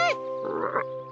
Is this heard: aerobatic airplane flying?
no